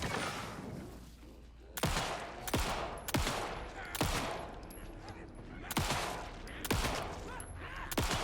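Bursts of gunfire in a first-person shooter video game, several sharp volleys spaced a second or so apart over a steady background rumble, with a voice heard in between.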